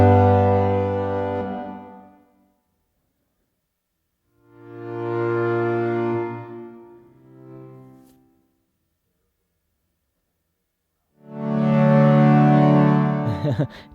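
A Sequential OB-6 synth holds notes whose volume swells up and fades away under aftertouch control, three rich, buzzy swells separated by silence with no talking.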